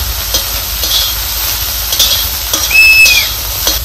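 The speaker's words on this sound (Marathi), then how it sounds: "आणि चांगलं असं आपल्याला हरभराही भाजायचं" Green chickpeas roast in oil in a pan, giving a steady close hiss and crackle broken by a few stirring scrapes, fairly loud, with no talking.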